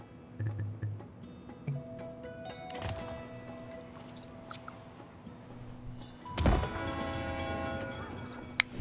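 A train in the SimCity city-building game rumbles past with clattering cars and a sharp horn blast near the end, set among soft ambient game tones and faint background sounds.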